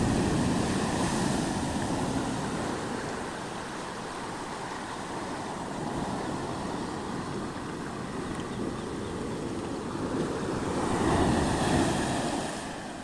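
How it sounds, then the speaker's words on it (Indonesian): Ocean surf breaking on a West Java shore, a continuous roar of waves rising and falling with wind buffeting the microphone, fairly close and steady, no talking. "melihat dan mendengari berdeburan ombaknya"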